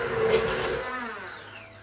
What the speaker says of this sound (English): using a blender, we want to blend it to a smooth consistency